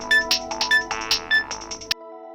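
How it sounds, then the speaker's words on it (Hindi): A loud electronic phone ringtone plays close by as a rapid chiming melody of repeated notes for about two seconds, then cuts off abruptly, with no voices. "दीदी आप फोन उठा लो"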